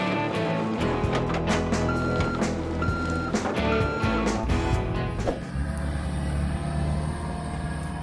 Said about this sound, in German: Da ist ein LKW von Fricke